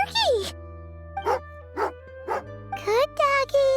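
Small dog in Genshin Impact barking in a string of short, bright yips and bow-wows, loud and close, with pauses between bursts over a steady game music drone.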